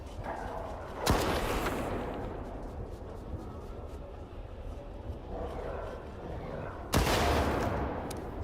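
Gunfire in the video game Stalker 2: two sharp, separate shots several seconds apart, fairly quiet, with a low, rumbling game ambience in the gaps and no clear talk.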